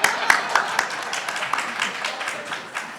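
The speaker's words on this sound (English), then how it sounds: "I was going to wait for the applause." An audience applauds at a Congressional District 7 primary candidate forum on business concerns in Seminole. The clapping is a steady, moderate wash of many hands with a few sharper claps standing out, and it carries on throughout without fading.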